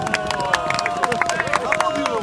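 Scattered applause rings out at the award ceremony for a giant slalom ski race in Korbielów, with uneven claps from a small crowd over a steady tonal hum and background chatter.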